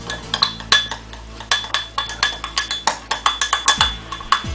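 A utensil stirs a gelatin and milk mixture in a bowl, clinking against the sides in a quick, regular rhythm of sharp close taps for the whole stretch.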